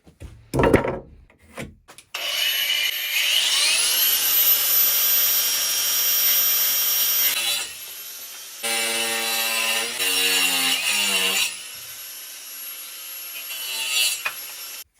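A power saw whines as it cuts a wooden board to size, a loud sustained grinding tone that shifts in pitch and briefly drops out partway through.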